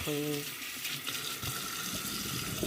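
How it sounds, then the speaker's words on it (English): Tap water runs steadily into a kitchen sink to rinse it out, a continuous close hiss and splash after a brief voice at the start. "I'm just running some water to"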